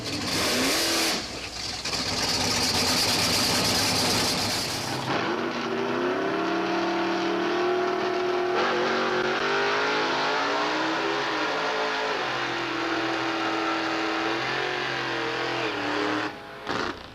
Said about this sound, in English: it's time for the third and final round of our junior stock match race